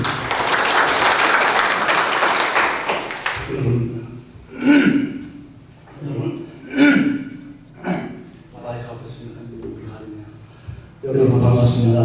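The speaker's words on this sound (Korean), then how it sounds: "박수 한번 부탁드립니다." A short, loud burst of applause from an alumni association board meeting audience fills the opening three seconds and then cuts off, followed by someone speaking.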